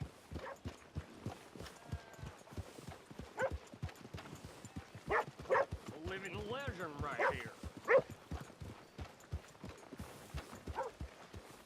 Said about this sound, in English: let's leave the horses here off the main drag.